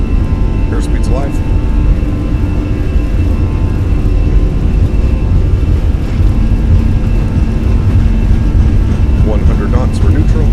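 Twin jet engines of a Fenix A320 at takeoff power in Microsoft Flight Simulator, a steady loud broadband roar and whir filling the whole clip, with a voice talking over it.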